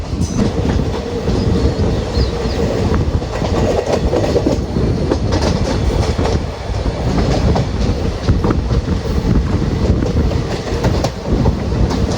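Diesel-hauled passenger train on the Payyanur–Nilambur route pulling away and running steadily on the rails, a loud, continuous rumble with rhythmic clickety-clack of wagon wheels throughout, close and without talk.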